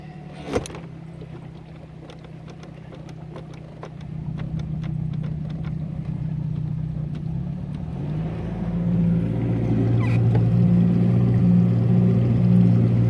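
Yamaha 50 hp outboard motor pushing a small boat in reverse, with water washing up into the hull; a low steady engine hum rises in load and pitch partway through, preceded by a sharp clunk of the shift.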